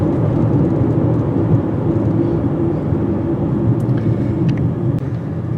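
A car accelerating at full throttle, a loud, continuous low engine drone and rumble that holds steady throughout, with a few faint high clicks near the end and no talking.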